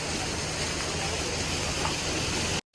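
A mountain waterfall in Kinnaur pours out a dense, steady rushing hiss close by, loud and unbroken, before cutting off abruptly at the end.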